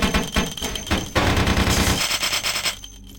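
Rapid automatic gunfire in the video game Vampire the Masquerade: Bloodlines, loud dense bursts of shots blending with electric zapping and impacts, then trailing off at the end.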